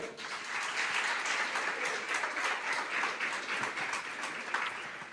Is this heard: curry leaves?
no